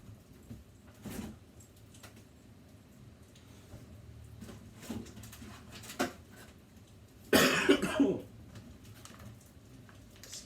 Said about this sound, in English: I have a cough that's hanging around